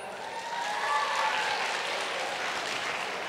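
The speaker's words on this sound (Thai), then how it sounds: "ขอเสียงปรบมือหน่อยครับ" University students applaud at an Asian traditional music forum concert, a steady wash of clapping from a crowd in a hall, fairly even and moderately loud.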